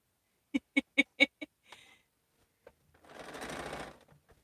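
A sewing machine stitching quilt pieces gives five quick, evenly spaced mechanical bursts, then a faint whir and a softer rustling noise, close and fairly quiet.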